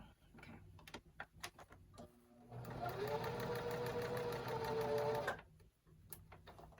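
A sewing machine stitches fabric for a pillow in a steady whirring burst lasting a few seconds, bracketed by softer clicks and handling noises before and after the run.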